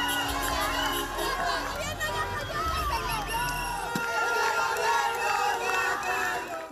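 Crowd of Venezuelans shouting and cheering together in a dense, continuous din, voices rising and overlapping, with a brief sharp bang near the middle; car horns are not clearly picked out.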